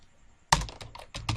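A burst of quick keystrokes on a computer keyboard, close and crisp, with a brief pause before a second run of clicks; no talking.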